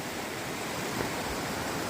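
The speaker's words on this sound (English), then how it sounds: "It's a beautiful little stream." A small, fast-flowing stream rushes over rocks between high rock walls on the Appalachian Trail, making a steady broadband hiss of water that stays even and unbroken at moderate volume.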